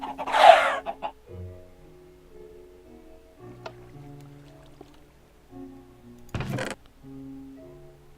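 Chickens in a Minecraft Redpower 2 semi-automated chicken farm, a loud squawky burst at the start then soft clucks among tonal game sounds, with another sharp cluck later.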